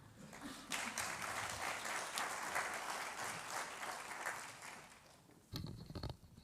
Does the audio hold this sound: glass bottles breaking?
no